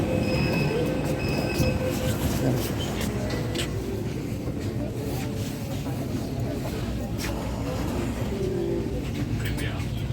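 Continuous rumble and clatter of a Delhi Metro train with automatic doors running, with rail squeals and scattered faint chimes and knocks, loud and steady throughout.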